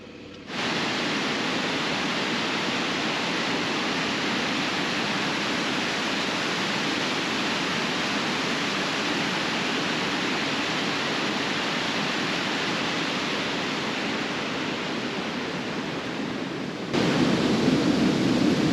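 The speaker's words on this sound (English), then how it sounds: "you can see that sort of man-made waterfall" A man-made waterfall in a small park pours steadily, a dense, even rush of falling water heard close and loud, with a slight shift in tone near the end.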